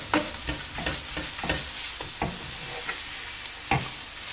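A spoon stirs a vegetarian ravioli filling seasoned with salt, oregano and chilli flakes in a pan, giving close, irregular scrapes and knocks over a soft sizzle, with no talking.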